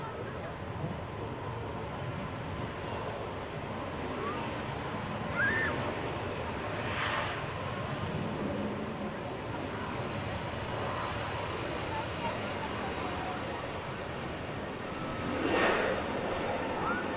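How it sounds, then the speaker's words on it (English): A long-range Airbus A321neo departs Manchester Airport, its engines making a steady, distant roar that swells at times, with a faint voice now and then. "Should be following this long range 321 Neo out."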